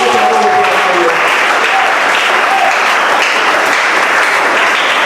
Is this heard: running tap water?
no